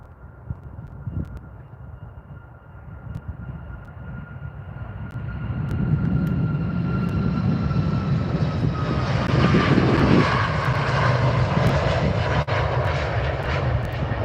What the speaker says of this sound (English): here comes a Flair 737 MAX 8